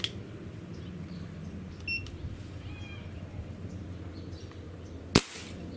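A Dan Wesson 715 .177 pellet revolver fires its hammer in single action during a trigger-pull test on a Lyman gauge. A single sharp, loud snap comes near the end, after a quiet stretch with a faint tick.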